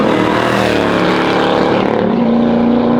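Supercharged 650-horsepower GM LT4 crate engine in a 1968 Camaro restomod with a six-speed Tremec Magnum runs with a loud, steady, dense exhaust drone, close and continuous, a low tone shifting slightly near the end, with no talking.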